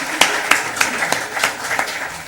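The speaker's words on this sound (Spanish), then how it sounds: "Merece un aplauso porque está ahí dándole de pego." A few people clap in a sparse, rhythmic way at a lecture on God's existence in light of science, honoring a helper at the presentation. Roughly seven distinct claps ring out over about two seconds, moderately close and without any speech.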